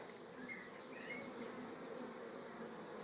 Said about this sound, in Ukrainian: Бджілки наші дуже інтенсивно літають.